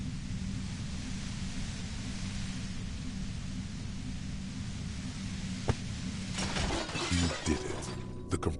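A compressor machine breaking in Disco Elysium, heard as a steady low hum followed by a sudden sharp crash and scattered clattering, shattering bursts near the end.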